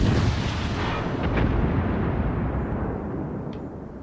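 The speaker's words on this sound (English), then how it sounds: "That's torpedoes, that noise." Torpedo noise in the naval battle game World of Warships Legends, a loud low rumbling roar that fills the space and slowly fades, with faint splashy bursts on top.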